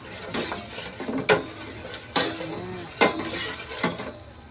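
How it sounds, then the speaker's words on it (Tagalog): Butter heating in a pan for sautéing garlic, onion and ginger, with a soft sizzle broken by several sharp utensil scrapes and clinks against the pan at irregular intervals, close and moderately loud, no talking. "Napainit yung butter para igisa yung bawang, sibuyas at luya."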